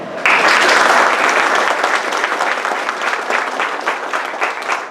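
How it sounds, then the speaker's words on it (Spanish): An academic audience breaks into loud applause for the university rector. The clapping starts abruptly, stays dense and strong, then eases slightly while continuing to the end. "a quien pido un fuerte aplauso"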